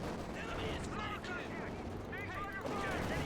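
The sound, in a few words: machine gun fire in Company of Heroes 2, video game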